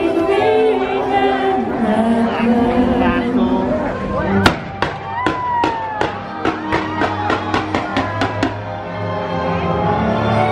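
A rapid series of fireworks bangs and crackles bursts out in quick succession over crowd noise and voices at Magic Kingdom, after a stretch of music.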